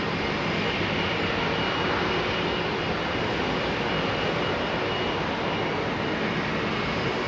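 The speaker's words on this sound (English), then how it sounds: "747-8 intercontinental freighter" A Boeing 747-8 Intercontinental freighter at Heathrow Airport gives a loud, close, sustained jet engine roar, broad and constant for the full length with no pauses and no voices.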